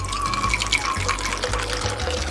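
Havana dark rum poured into a cold champagne coupe, a close, steady trickling splash of liquid running continuously with small gurgles and no talk.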